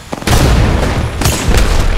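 Grenade explosions in a first-person shooter game: heavy, loud booms that roll into a sustained rumble, with a second blast hitting about a second later.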